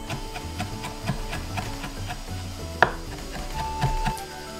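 A kitchen knife finely chops parsley on a cutting board, making a steady run of light, soft taps close by over low background noise, with one sharper knock partway through and no talking.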